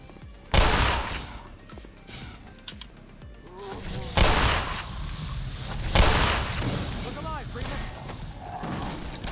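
Shotgun blasts and gunfire in the shooter game Black Mesa: three loud booming shots spaced a few seconds apart, with scattered smaller gunfire and clatter between them, while someone talks excitedly over the action.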